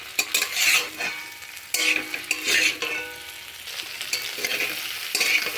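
Okra frying with egg in a pan, loud close sizzling broken by repeated scraping stirs of a spatula, in uneven bursts with no voices.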